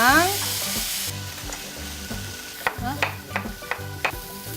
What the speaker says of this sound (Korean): 후추, 고기를 넣으세요. 센 불에다 조리하세요.